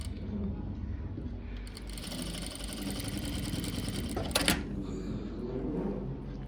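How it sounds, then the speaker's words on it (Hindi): A sewing machine runs steadily, stitching a blouse sleeve into the armhole. It gives a continuous mechanical whir with a brief louder burst near the end. "तो इसको पहले अच्छे से स्टिच कर लेंगे।"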